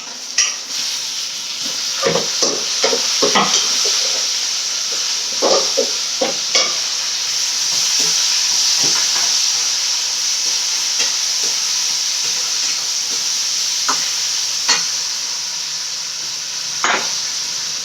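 Onions sauté for dried fish egg thokku (karuvadu muttai), a steady frying sizzle broken by repeated scrapes and stirs of a spoon in the pan, no talk.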